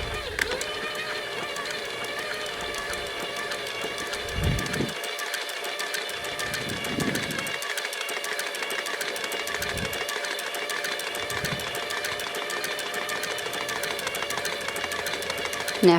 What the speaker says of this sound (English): then you're going to turn your machine on.